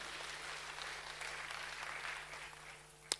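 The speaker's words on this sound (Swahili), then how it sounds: "Tuwapigieni makofi mazuri." A church congregation applauds at a youth Sunday service, a steady wash of soft, distant clapping from many hands lasting about three seconds under a low electrical hum, ending with one sharp knock.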